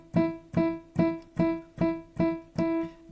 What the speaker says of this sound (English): let me play on the piano